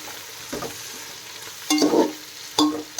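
Onions fry in a pan for vegetable brinji rice with a soft steady sizzle, broken by a few louder scraping stirs of a spoon close by.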